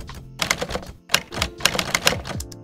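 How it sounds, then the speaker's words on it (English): Retro typewriter typing effect from the Hanx app, a close run of rapid, uneven mechanical key strikes with clacks and thunks in quick bursts. "you don't want it too smooth because you want that kind of manual typing effect."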